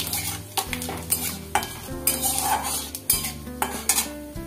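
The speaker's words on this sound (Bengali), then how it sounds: "তো ফোড়নটা ভাজা হয়ে গেছে" Whole spices, bay leaf, garam masala and cumin, fry in hot oil in a pan for tempering, with a steady sizzle under repeated clinks and scrapes of a metal spoon stirring against the vessel.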